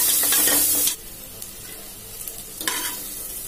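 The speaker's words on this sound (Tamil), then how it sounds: "வெங்காயம் நல்லா வதங்கிடுச்சுங்க." Onions and two small green chillies with a pinch of salt sizzle in a pan, a loud frying burst in the first second, then a quieter steady hiss with a few stirring scrapes and a brief flare near the end.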